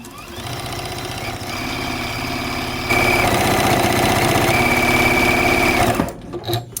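A sewing machine runs steadily while stitching appliqué quilt blocks of cupcakes and a picnic basket, a fast even rhythm that grows louder partway through before stopping near the end.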